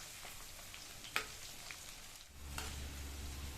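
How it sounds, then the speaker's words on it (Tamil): Coated cauliflower pieces slide into hot oil, a soft crackle at first, a small splash or clink, then a low steady bubbling sizzle of deep-frying that swells slightly toward the end, fairly quiet overall. "கோட் பண்ணி வச்ச காலிஃப்ளவரை எடுத்து ஒன்றா இந்த மாதிரி எண்ணெயில் சேர்த்துடலாம்"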